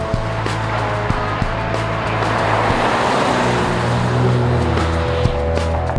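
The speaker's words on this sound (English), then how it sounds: "Nice exhaust notes." Exhaust note of a 2018 Kia Stinger while driving, a steady droning engine rumble with road noise, continuous and fairly loud from inside the cabin.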